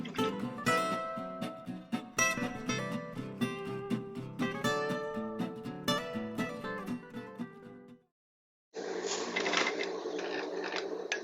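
A sewing machine fitted with a pleating foot stitches and pleats fabric, running in fast, uneven mechanical bursts up close, then stopping briefly before starting again with a steadier whir.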